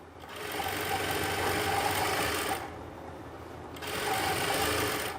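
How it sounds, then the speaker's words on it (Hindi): A sewing machine stitches close along the edge of fabric for an angrakha-style umbrella kurti, running loud and steady in two long bursts with a short pause between them. "जैसे मैं इसमें सिलाई लगा रहा हूँ"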